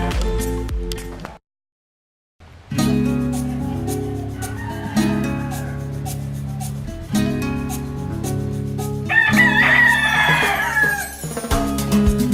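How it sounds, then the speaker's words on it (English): Rooster crowing mixed with church bells rises over a busy layered background, continuous and fairly loud after a brief silent gap near the start, early morning in Mexico. "Awoken early by roosters and church bells"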